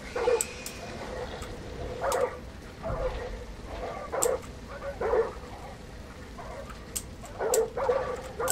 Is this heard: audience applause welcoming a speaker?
no